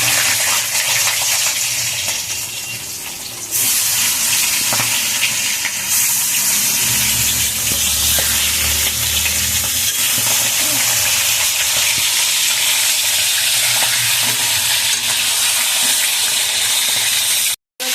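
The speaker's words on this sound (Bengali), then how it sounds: "তেলটা গরম হয়ে গেছে, এটাকে একটু ভেজে নেব চিকেনটাকে" Marinated chicken pieces for a home-style chicken biryani fry in hot oil, giving a loud, steady broadband sizzle and hiss that fills the whole stretch, dipping briefly near the start and cutting off at the very end.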